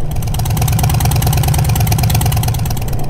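A motorcycle engine idles steadily with a new exhaust fitted, giving a loud, close, continuous rumble with a fast even pulse throughout.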